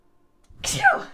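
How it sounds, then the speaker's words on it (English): A single loud, sharp sneeze bursts out after a half-second of near silence, then trails off. "Oh my god, I have to sneeze."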